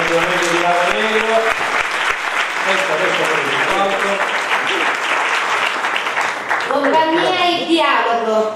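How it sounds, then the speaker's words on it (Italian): Loud sustained audience applause for a theatre company at a 2018 theatre festival awards ceremony in Rotonda, dense clapping throughout with children's voices and chatter mixed in, plus a brief musical or vocal swell near the end. "L'altro applauso per la compagnia Attivamente di Lava Negro."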